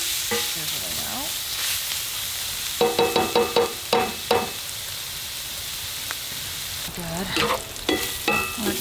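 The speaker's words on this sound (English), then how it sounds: "And the chorizo itself is sizzling out." Steady sizzling and frying of chorizo in a pan on a camp stove inside a hot tent, with stirring scrapes and clacks of a utensil coming in bursts, close and fairly loud.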